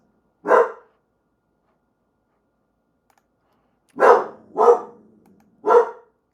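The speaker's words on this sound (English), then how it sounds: "My dogs were barking about something." Dogs bark nearby in sharp, loud bursts: one bark, a pause of several seconds, then three more in a quick uneven cluster, with silence between and no talk.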